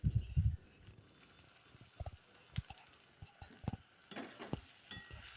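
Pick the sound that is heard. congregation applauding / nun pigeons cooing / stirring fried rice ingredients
stirring fried rice ingredients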